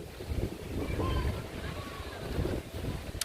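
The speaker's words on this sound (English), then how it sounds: "It is getting windy, so if you hear wind, I do apologize for that." Wind buffeting a microphone outdoors at Walt Disney World: steady low rumble and roar that swells and fades throughout, loud and close, with faint background sounds.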